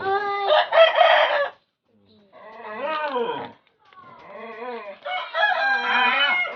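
Domestic chickens and a rooster call loudly and close, with rhythmic clucking and crowing in several bursts separated by short pauses, over a quiet background.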